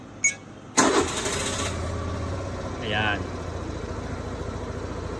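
A motorcycle engine cranks and catches after a brief electronic chirp, then settles into a steady close idle while a voice speaks briefly over it.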